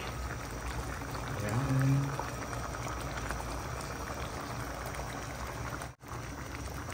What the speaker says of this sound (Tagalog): Ilalagay ko na po ang ating gulay.